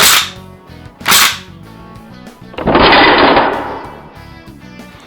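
SHOEI Gewehr 43 airsoft gas blowback rifle firing, a few sharp, loud cracking shots spaced about a second apart, the last with a longer rattling tail, close by and with no talking.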